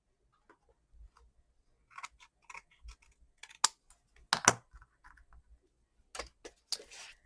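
Scissors or a trimmer snip excess paper from a handmade card at a craft table, a few quiet, sparse clicks and cuts with short pauses between them.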